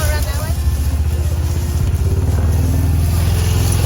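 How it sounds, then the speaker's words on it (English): A four-wheeler ATV engine runs close by at a steady rumble through the whole moment on a pig farm, with people talking over it. "we're going to be able to drive this four-wheeler right in"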